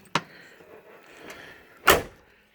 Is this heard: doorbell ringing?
no